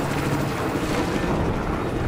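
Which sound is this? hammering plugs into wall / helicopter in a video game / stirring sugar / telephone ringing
helicopter in a video game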